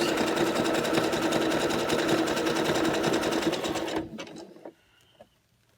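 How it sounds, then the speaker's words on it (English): A sewing machine runs steadily and loudly, stitching around the edges of a microfiber cloth, then stops, leaving a few faint mechanical clicks and handling noises. "Just want to make sure all the edges are sewn in."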